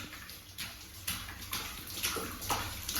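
An 11-month-old baby splashes and plays in water, making a run of loose slaps and sloshes against a constant watery rush, close and fairly loud, with no talking.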